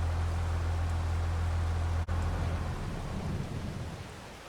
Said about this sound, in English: So that rain can nicely wash in that fertilizer now.